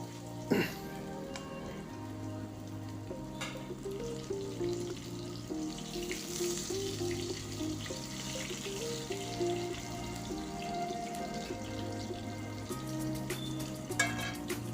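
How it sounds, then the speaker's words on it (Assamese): Potatoes fry in leftover oil while a fish curry is made, giving a continuous, even sizzle that stays moderately loud under steady background music, with a couple of sharp clinks. "এতিয়া বাকী থকা যিখিনি তেল আছিল, আমি সেই তেলখিনিতে আলুখিনি আমি ফ্ৰাই কৰি ল'ম"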